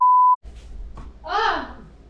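A timer goes off with a single short, clean electronic beep, followed by quiet room sound and a soft voice.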